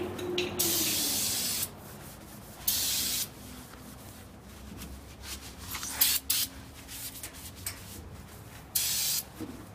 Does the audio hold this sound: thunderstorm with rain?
no